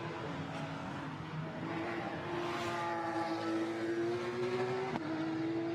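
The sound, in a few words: Porsche race car accelerating after pit stop, Zandvoort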